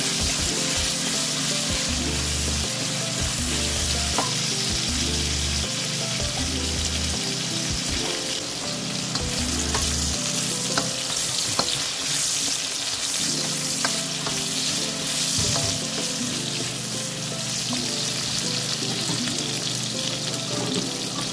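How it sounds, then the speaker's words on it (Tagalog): Potatoes sauté in a pan for a beef ribs stew, a steady loud sizzle and crackle of hot oil with occasional stirring scrapes, continuous and close, with no talking. "idagdag na natin yung ating potatoes at igisa lang natin siya ng bahagya until medyo mag-brown-brown na yung potatoes natin"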